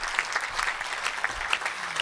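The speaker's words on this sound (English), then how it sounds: "So please clap for yourselves." A club meeting audience claps in steady, moderately loud applause that fills the room from start to finish.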